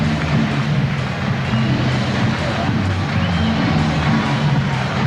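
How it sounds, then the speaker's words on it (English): Steady roar of a boxing arena crowd at the Prince Naseem Hamed versus Tom "Boom Boom" Johnson fight, a thick, constant babble of cheering voices with no distinct peaks, heard from within the venue. "Has to be said, crowd absolutely lap it up."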